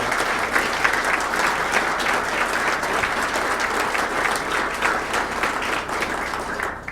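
An audience at a 2014 Senate campaign event claps steadily, a dense, even wash of applause that keeps going throughout and fades slightly at the very end.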